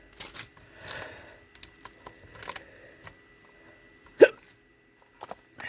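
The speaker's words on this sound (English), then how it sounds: "Oh, these hiccups." Hiccups from a woman working on resin crafts, several short, sharp catches scattered across a quiet room, with one loud, abrupt hiccup standing out near the end.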